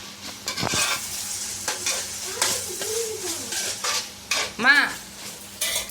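Tomatoes being sautéed in a pan for chicken sukka give a steady sizzle, with repeated spoon stirs and scrapes against the metal and a brief clatter of utensils; one short spoken word breaks in near the end.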